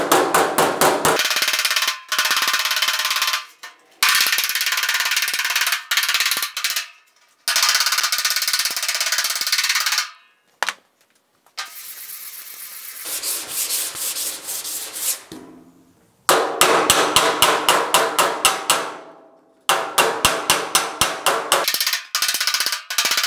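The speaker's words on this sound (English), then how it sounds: "So I'm gonna push up right here and hammer down right here because that's low and that's high." A dented steel fender on a Pontiac GTO restomod is worked with a hammer, giving rapid runs of sharp metallic taps in bursts, with harsh rubbing and scraping passages between them. The sounds are close and loud.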